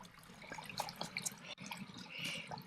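Running water from a small stream source in the Lake District fells, a close, steady trickling and splashing with bright bubbling detail and no talk over it.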